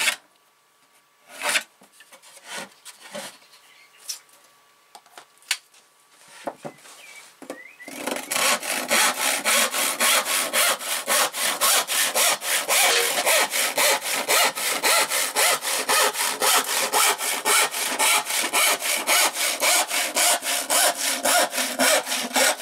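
A hand saw cuts the ends off wooden boards with a long run of steady, rhythmic rasping strokes, loud and close, after a stretch of scattered knocks and handling noises.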